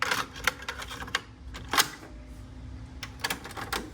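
An older TDK cassette tape being loaded into a cassette deck, giving a series of sharp plastic clicks and clacks at irregular intervals, close and fairly quiet, with no talking.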